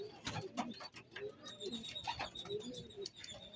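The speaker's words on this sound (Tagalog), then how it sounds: "at ayan na yung kalapate" Pigeons coo softly in repeated low murmurs near a loft, mixed with faint chirps and background voices.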